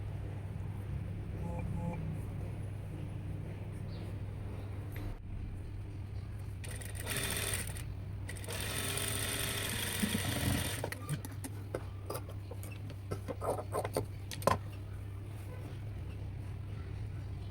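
A sewing machine stitches a folded two-inch hook strip onto the right side of a princess-cut blouse, running in a steady mechanical whir for several seconds with softer bursts before and after.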